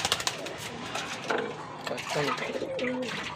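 Soft fancy pigeon coos mixed with birdsong and a busy outdoor backdrop, with a few brief sounds of movement early on.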